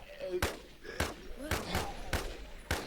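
Gunfire from shooting zombies in the game Infestation, five or six sharp single shots spaced about half a second apart, crisp and fairly quiet over a low background.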